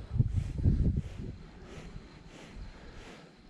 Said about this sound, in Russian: Ветер довольно сильный.